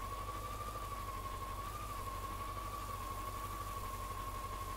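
A tractor engine idling in the video game Farming Simulator 19, a steady low mechanical hum with a constant whining tone above it, even and unbroken throughout.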